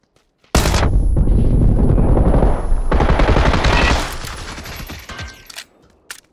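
Tommy gun fire in the battle royale game PUBG, a loud sustained automatic burst lasting several seconds that tapers into echoing tails and scattered distant shots.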